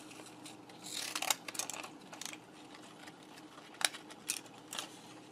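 Scissors slicing through crinkly-cut paper in a series of quiet, crisp snips and rustles, clustered in irregular bursts over a low steady background hum with no talking.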